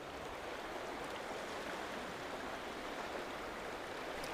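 Steady broadband rush of flowing creek water at Robinson Creek, heard while wade fishing, continuous and even throughout with no talking.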